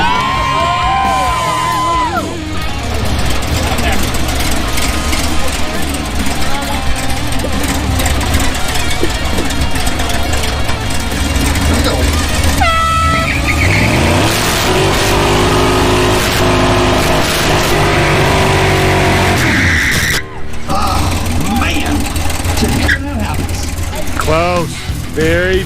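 Car engine revving hard during a tire burnout at a smoke burnout event with race fuel, loud sustained roaring and surging revs under an excited cheering crowd, with people talking and whooping throughout.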